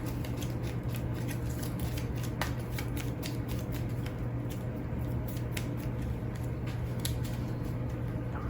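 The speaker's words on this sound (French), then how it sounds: "On va remélanger les cartes légendes." Legend cards from the Heat racing board game are riffled and shuffled by hand for several seconds, a close, steady flutter of rapid card snaps with a faint background hum.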